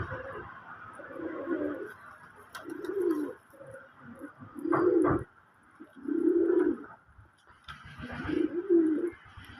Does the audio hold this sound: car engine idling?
no